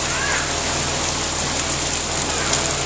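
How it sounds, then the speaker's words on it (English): Steady rain special effect sprayed from water nozzles above a tram on a studio backlot set, a continuous dense hiss of falling water with no voices. "As soon as the rain effect is ready, we'll begin the sequence."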